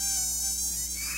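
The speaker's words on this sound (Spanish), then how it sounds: "El mosquito transmisor del dengue vive en recipientes que contienen agua" Mosquito buzzing as part of a dengue prevention announcement, a thin, steady high-pitched whine that holds close and loud for about a second, with no talk over it.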